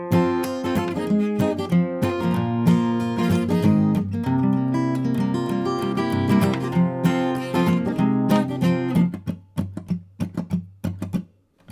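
Guitar playing the chorus of a song, a busy strummed and picked run of chords and notes, loud and close throughout, thinning into separate plucks at the end.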